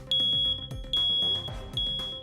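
Smoke alarm sounding three loud shrill beeps in a steady rhythm as its test button is held down, each beep ringing out clearly over a faint hum.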